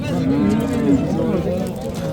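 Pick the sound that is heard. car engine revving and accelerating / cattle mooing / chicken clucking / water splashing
cattle mooing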